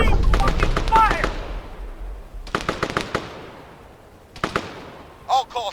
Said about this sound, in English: Opie, who's firing?